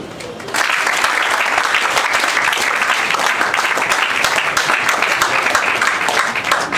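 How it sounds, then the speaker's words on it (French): An assembly audience bursts into steady, loud applause, a continuous crackle of many hands clapping that holds evenly for several seconds after a brief quiet start. "je demande encore une fois de plus à l'Assemblée d'applaudir"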